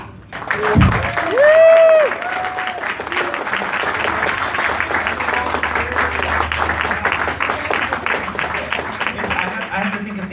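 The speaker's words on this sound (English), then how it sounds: "Round of applause for all the organizers." Sustained applause from a crowd at a crystal fair opening ceremony, steady clapping filling the room, with a brief voice and tone near the start.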